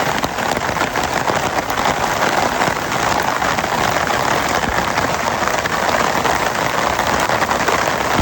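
Steady rain falls continuously on a surface outdoors on a smoky morning, a dense even hiss with scattered droplet patter, fairly loud and unbroken throughout, with no voices.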